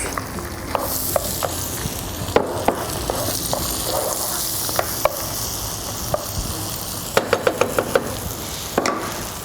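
Meat sizzles steadily in a pan of butter and vegetable oil, a dense crackling hiss broken by sharp clicks and scraping taps of a utensil stirring.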